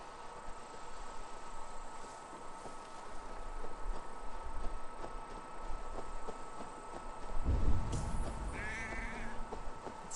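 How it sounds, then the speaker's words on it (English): A distressed sheep bleats in the Assassin's Creed Valhalla game, a faint wavering cry rising late over a low rumbling, noisy game ambience. "sounds like a sheep, and not a happy one."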